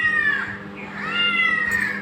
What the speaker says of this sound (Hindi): मुझे ने फ़ोन में चलाई बिल्ली की आवाज़